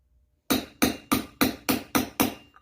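A new wheel bearing on a 350 Warrior is driven in with a hammer striking a 1.25-inch socket: seven loud, evenly spaced metallic blows land about every third of a second after a short silence.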